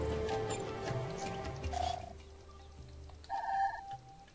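Short seagull calls ring out in Beyond Good & Evil, two brief cries separated by a pause over faint background ambience.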